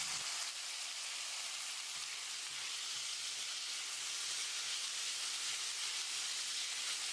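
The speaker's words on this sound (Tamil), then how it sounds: "150 கிராம் அளவுக்கு தக்காளியை நறுக்கி வச்சுருக்கேன்" Chopped tomatoes frying in a pan with softened onions for a potato gravy, giving a steady, even sizzle and hiss that carries on throughout without pause, with no talking.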